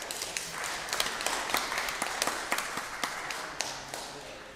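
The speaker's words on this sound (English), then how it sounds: "You can clap if you want." A small church meeting audience claps in a loose, uneven patter, individual claps audible as distinct taps, moderately close and steady throughout with no talking.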